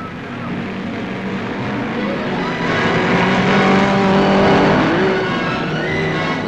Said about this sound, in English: A Le Mans type stud for a motor race on a frozen lake near Quebec.